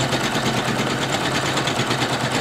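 A Singer Legacy SE-300 embroidery machine stitches a bow design, a fast, steady mechanical whir and rhythmic needle clatter running close and loud throughout.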